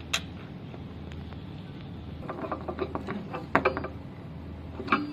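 Small screws being driven into the panel of a 360-degree cryolipolysis fat-freezing machine, a run of faint clicking, ratcheting ticks over steady room hiss, with a few sharper taps near the end.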